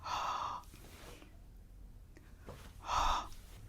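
A voice imitates a dragon breathing fire with two loud, breathy hissing bursts, one at the start and another near the end, separated by a quiet stretch.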